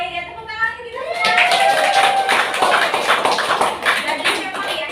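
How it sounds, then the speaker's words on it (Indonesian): A class of schoolchildren in an Indonesian lesson claps hands together, a dense, loud burst of clapping that rises after a spoken line and continues steadily, mixed with children's voices. "tepuk tangan kita semua"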